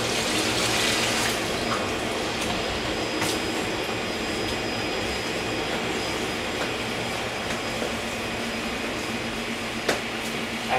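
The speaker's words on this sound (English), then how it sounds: "how easy it is to use a watering wand to make your life so much more simpler" A watering wand spraying water onto potted plants, a steady broad hiss of spray running continuously at close range, no talk.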